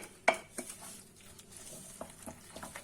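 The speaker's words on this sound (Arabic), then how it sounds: "هنقلب بقى كويس قوي الخليط ده" A utensil stirs Egyptian omelette (eggah) mixture in a bowl, giving a sharp clink at the start followed by soft scraping and light taps against the side, close and fairly quiet.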